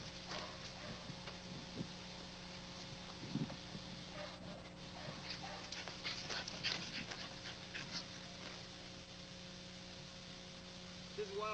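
A 13-month-old female pit-type dog at Wildeside Kennel in 1999 pants and moves about. There are scuffling steps, jingling and a few soft whimpers in a yard, with someone talking quietly at times.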